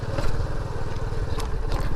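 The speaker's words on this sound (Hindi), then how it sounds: "बाइक चल रही है, गड्ढा ना मिल जाए बस" A motorcycle rides slowly along a broken road with potholes and standing water, its engine a steady, close, continuous low rumble with some rattling.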